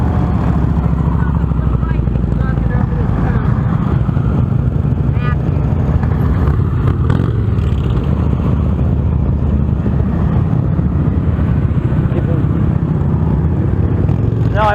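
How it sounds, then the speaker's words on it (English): A motorcycle engine drones steadily throughout as it is ridden, fairly loud and close, with a voice speaking over it. "I'm allowing somebody to ride my motorcycle, and he's doing just fine."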